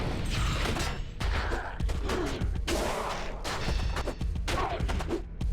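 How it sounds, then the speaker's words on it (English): In the Diablo II game (Project Diablo II mod), ice explosions burst amid combat, a string of sharp, crackling blasts and impacts in rapid, irregular succession, loud and dense throughout with no talk. "I heard the second ice explosion."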